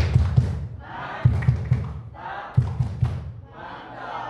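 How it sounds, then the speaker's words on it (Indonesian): A school class performs a rhythmic clapping chant together, with groups of claps thudding in repeated bursts alongside many voices shouting in unison. "Ayo coba tepuk mantap."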